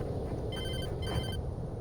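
A telephone rings in the Alan Wake video game, two short ringing bursts over a dense rumbling game ambience, with no talk.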